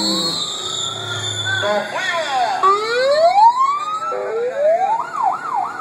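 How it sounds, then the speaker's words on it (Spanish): Siren-style signal held up to a microphone to start a race, loud wailing and whooping sweeps rising and falling continuously, with someone shouting over it. "Dile que le ponga el pito al micrófono para que se escuche."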